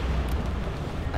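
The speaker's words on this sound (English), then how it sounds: "Inferno cannons loaded." An inferno cannon fires in the C&C Generals Zero Hour strategy game with a short, heavy, rumbling boom, and a game voice sounds over it.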